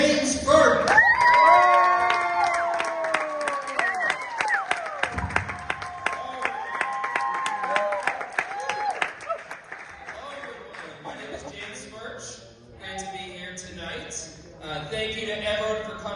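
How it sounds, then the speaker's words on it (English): A comedy club audience at the Stress Factory in Bridgeport, Connecticut claps and cheers, with whoops and shouts rising over the applause, while a voice speaks at moments through the noise. "Please give a big round of applause to James Burke."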